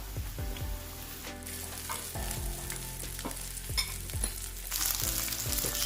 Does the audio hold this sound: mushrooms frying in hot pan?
yes